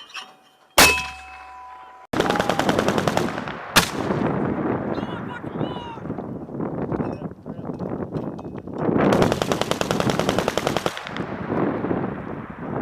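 Paired machine guns at a large military exercise fire in alternating bursts, a loud rapid hammering rattle that runs almost continuously for several seconds after a couple of sharp single reports.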